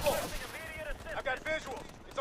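A rocket launcher fires in the Call of Duty Advanced Warfare campaign, giving a sharp blast and then a burst of further explosive bangs, with gunfire-like cracks recurring through the short stretch at moderate, close level.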